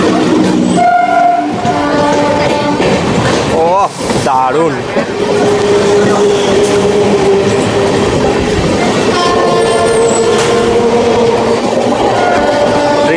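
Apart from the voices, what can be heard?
local train passing at speed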